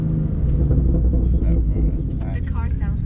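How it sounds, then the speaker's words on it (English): Deep, steady engine rumble from inside a BMW M car with a performance exhaust, loud and throaty, with voices chatting over it toward the end. "The car sounds so good."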